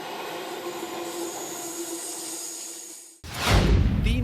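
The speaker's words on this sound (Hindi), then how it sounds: "मेट्रो दौड़ती रही, दरवाजे खुले रहे।" A Delhi Metro train runs with its doors open, making a steady rumble and rail hum, then a sudden loud, rushing roar as the noise surges near the end.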